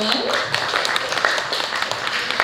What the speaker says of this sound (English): A round of applause for Arumi, everyone